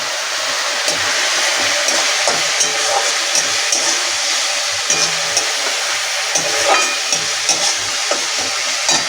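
A spice masala of cumin, coriander, turmeric and Kashmiri chilli powder with melted tomatoes stir-fries loudly and close for a cauliflower-potato fish curry, a continuous hissing sizzle broken by regular scraping stirs, no voices.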